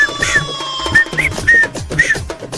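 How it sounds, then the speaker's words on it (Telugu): A man whistles a tune in short, repeated bright notes over a busy background of other sounds, moderately loud and close. "ఇప్పుడేంటి ఈల వేసి గోల చేస్తున్నాడు?"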